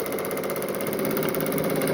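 Sewing machine stitching a meander pattern across a baby quilt, a steady fast mechanical hum and rapid needle rattle running continuously and close.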